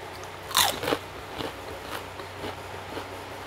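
Crisp bites into crunchy homemade tofu Cheetos-style snack, a loud close crunch followed by several softer chewing crackles at a steady pace, with no talk.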